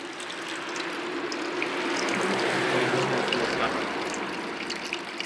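Water from a small roadside drinking fountain runs in a steady broadband gush at night, with a faint rattling mechanical texture and no talk.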